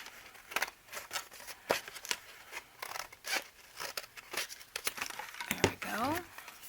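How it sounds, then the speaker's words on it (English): Scissors snip through thick packaging material in a series of close, uneven crunching cuts with crinkling between them, with speech in the background. "So I'm going to cut this off."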